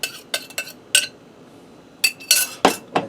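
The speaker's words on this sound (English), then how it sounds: "You want to scrape your bowl and get every little bit of that goodness out." Utensil scraping spicy sweet sauce out of a bowl for steak ramen noodles, a run of short clinks and scrapes in two bursts with a quiet gap between, close and fairly loud, no talking.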